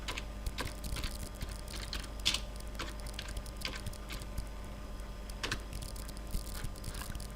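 Steady computer keyboard typing, quiet and close, with clusters of quick key clicks and brief pauses over a faint background hum.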